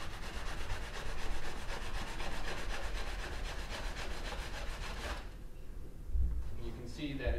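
A pumice sanding tool rubs steadily across parchment in a continuous, close, rasping scrape with quick back-and-forth strokes, stopping near the end as a voice speaks over a few final rubs.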